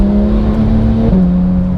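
A Porsche 991 GT3 with a Sharkwerks bypass exhaust revs loud and close, holding a steady tuneful engine note, then shifting pitch slightly partway through, with no talk over it.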